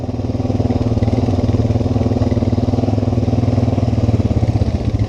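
The engine of a 2012 Honda Rancher 420 ATV runs steadily at a loud, close idle-like rumble with a fast, even chugging pulse and mechanical clatter, with no pause throughout.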